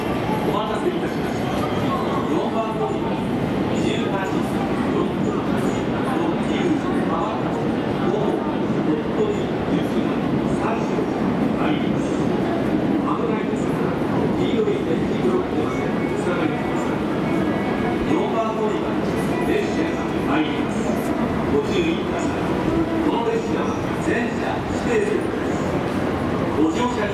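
Rumbling train noise fills Osaka Station during weekday evening rush as a train rolls in, with clattering and a continuous roar while Japanese platform announcements and voices carry over it.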